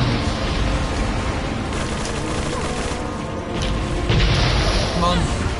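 Deep booming cannon blasts rumble through dense, noisy game action in Resident Evil 4 (Separate Ways) while a person talks over it.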